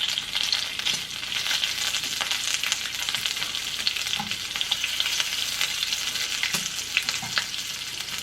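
Bacon sizzles and spatters steadily in a pan, a dense, even crackle with scattered sharper pops, close and continuous with no voices over it.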